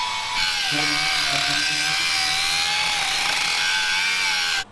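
Power tool beveling the outer edge of a metal panel on an offroad bread van build, a loud steady whine running continuously and close, starting and stopping abruptly.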